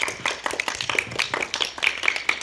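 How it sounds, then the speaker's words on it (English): An audience at a school debate claps for a speaker, steady scattered applause from a modest crowd, moderately loud and close, with no talking over it. "A round of applause for her."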